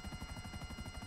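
Helicopter in GTA V Online, a quiet, steady rotor thrum with rapid pulsing blade chop over an engine whine, heard alone for about a second.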